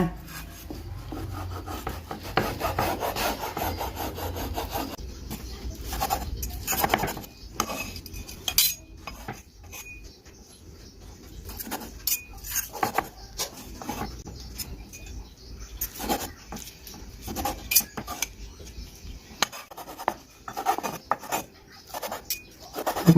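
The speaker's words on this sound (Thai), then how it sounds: "เดี๋ยวเรามาดูวิธีการหั่นไข่นะคะ" A knife cuts a cooled Thai omelette into pieces on a board, giving a series of close scraping and tapping strokes with short pauses, fairly quiet with no voices.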